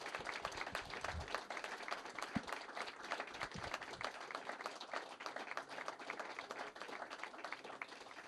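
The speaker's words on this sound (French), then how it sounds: "je vous demande de les applaudir très fort" Applause from a concert audience in Geneva, a steady wash of many hands clapping at moderate, fairly distant level for the whole stretch, with no voices standing out.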